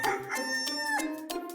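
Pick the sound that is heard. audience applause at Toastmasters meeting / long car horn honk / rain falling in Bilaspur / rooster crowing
rooster crowing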